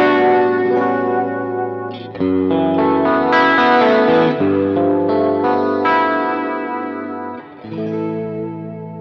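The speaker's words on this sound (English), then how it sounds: "Here's some chorus." Sustained electric guitar chords through a Milkman Sounds The Amp Stereo with a shimmering, wavering chorus effect and slight grit, ringing loudly and continuously with a short break near the end.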